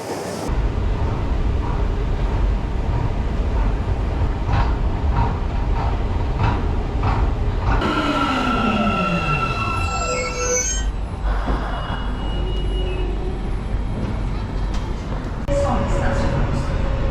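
Train ride in Istanbul, heard from on board: a steady loud rumble of the rail car with high metallic wheel squeals rising and sweeping midway, continuous throughout.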